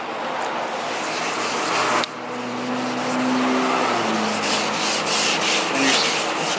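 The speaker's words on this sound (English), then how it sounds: "just get some water because we're gonna wet sand it" Wet sanding pad rubbing over a car headlight lubricated with water, a steady close-up scrubbing hiss that continues throughout with no talking.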